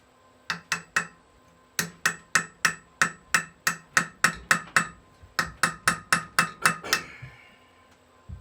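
A hammer strikes the axle shaft of a Jeep TJ Dana 44 during bearing and seal work, a long series of sharp, ringing metallic blows in quick even bursts with a short pause between runs, close and loud.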